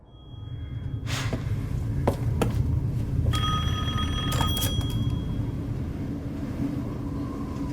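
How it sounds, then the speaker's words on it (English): A telephone rings in Resident Evil 8 with bright, tonal bursts in the middle of the passage, set against a steady low rumbling ambience. "overhears a phone call between our girl Demi and Mother Miranda"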